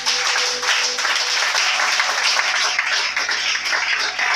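A church congregation applauding at a national convention, sustained dense clapping from a large crowd, loud and even from start to finish.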